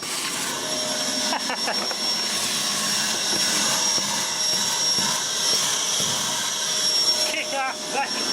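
A cheap roadside-salvaged vacuum cleaner runs with a loud, constant motor whine and high steady tone throughout, with a few clicks and rattles near the end.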